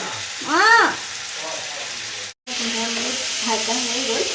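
A soft, steady sizzle from goat meat frying with onions in a pan runs beneath someone talking. A brief cutout breaks the sound midway.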